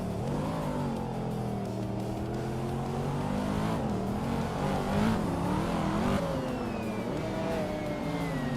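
A Saleen S7 Twin Turbo-style supercar engine, the 27 SSE Ultimate Aero Twin Turbo, drones steadily in a racing video game, its pitch rising and falling through shifts as other cars race nearby, loud and continuous.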